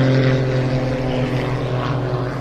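Aircraft hovering low at the Jersey International Air Display, trailing smoke: a steady, loud engine drone with strong tonal hum held throughout, no talk heard.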